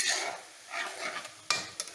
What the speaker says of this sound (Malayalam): വറുക്കാൻ തുടങ്ങിയിട്ട് ഇപ്പം 20 മിനിറ്റായി